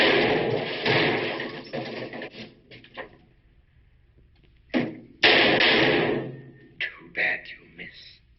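Gunshots from a 1948 film-noir thriller, two sharp loud broadband bursts heard in isolation near the middle, standing out from stretches of muffled dialogue-like noise and a few shorter thuds.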